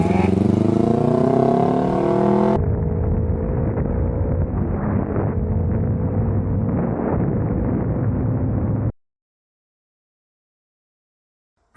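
Motorcycle ride on a Yamaha, engine droning steadily with wind rush over the microphone, loud and close before cutting off into silence.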